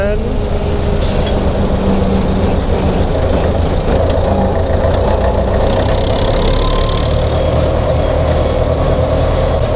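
An old Hanomag R460 tractor engine runs close by with a loud, steady, rumbling drone. It carries on without a break, and a voice speaks over it at times.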